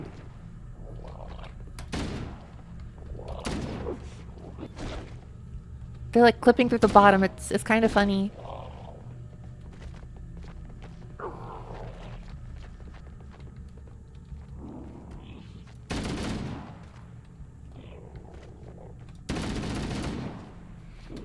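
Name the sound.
gunfire from a zombie shooter video game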